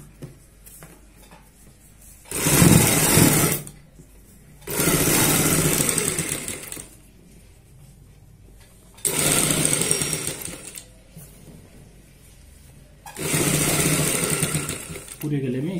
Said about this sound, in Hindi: अब हम यहाँ पे डबल सिलाई लगा लेते हैं इस प्रकार से